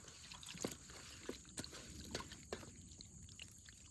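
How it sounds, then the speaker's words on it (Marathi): Boita fish being rinsed in water at a night campsite, quiet trickling and soft splashes with a few brief drips and knocks, faint and close; no talk. "इकडे बोयटा आहेत ना, मस्त आपण धुवून घेऊया."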